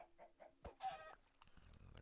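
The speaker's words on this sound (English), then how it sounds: "Another chicken here." A Minecraft video game chicken clucks in a few short, quiet, rhythmic calls, followed by soft game sounds close by with no talking.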